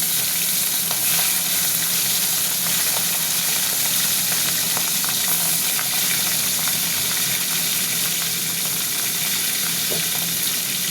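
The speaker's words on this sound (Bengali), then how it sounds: "তেল গরম হয়ে গেছে। মাছের মাথা, হাফ পিস মাছের মাথা ছিল, ওইটা আগে ভেজে নিচ্ছি।" A half fish head fries in hot oil, making a loud, continuous close-up sizzle and crackle with faint stirring, and no one speaks over it.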